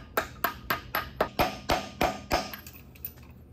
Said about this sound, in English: You just give it some little taps.